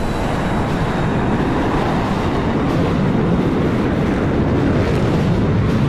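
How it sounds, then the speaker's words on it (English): A jet aircraft roars loudly and steadily during carrier landing practice in the flight simulator DCS World, a dense, unbroken engine blast with no voices. "A loud jet."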